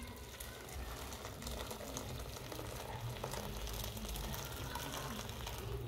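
Hot water pours steadily from a thermos bottle into a container in a home kitchen, a continuous close rush of liquid lasting several seconds with no talk over it.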